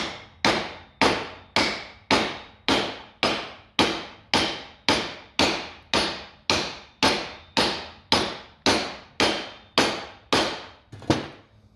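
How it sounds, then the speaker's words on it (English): Hammer tapping a throwout bearing into place on a 1992 Isuzu pickup: about fifteen evenly spaced, sharp metallic strikes, loud and close, each ringing briefly before the next, with no talk. "I think my hammer's big enough I ought to just be able to tap this"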